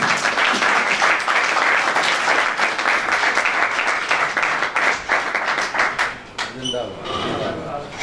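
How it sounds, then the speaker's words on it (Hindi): A crowd at a Punjabi poetry mushaira claps in sustained, loud applause for several seconds, thinning out near the end, with voices mixed in. "भरपूर तालियों में इस्तकबाल कीजिएगा"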